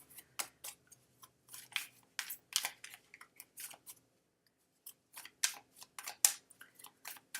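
Crisp bursts of riffling playing-card shuffles, several short runs separated by pauses, close and fairly quiet with no talking.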